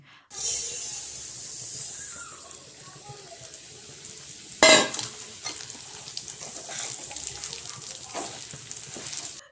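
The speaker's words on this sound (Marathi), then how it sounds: "ही जी लापशीची भरड आहे ती मस्त अशी तुपात छान खरपूस भाजून घ्यायची" Broken wheat (lapshi) roasting in ghee in a pan with coconut slices nearby, a steady sizzling hiss with scraping stirs and one sharp louder clatter midway, close and continuous.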